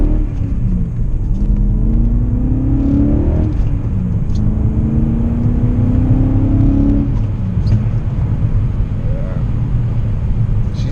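A BMW M5 E39 with freshly repaired timing chain guides revving, a steady loud engine rumble with several rising and falling pulls of the revs, close to the microphone and without talking.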